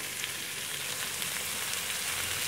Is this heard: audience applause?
no